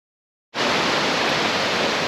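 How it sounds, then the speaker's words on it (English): A small waterfall on an olive farm starts abruptly after a brief silence, then pours as a loud, steady, close-up rush of falling water with no talk. "On this farm there is also this little waterfall"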